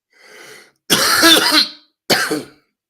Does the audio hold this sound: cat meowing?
no